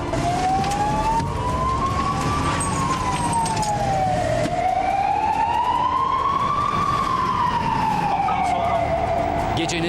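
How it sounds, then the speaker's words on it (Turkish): A fire truck siren wails up and down in slow sweeping cycles over steady night traffic rumble on the E5 highway in Istanbul, loud and fairly close. "Siren sesleri ise gecenin sessizliğinde acı bir çığlık gibi yankılanıyor."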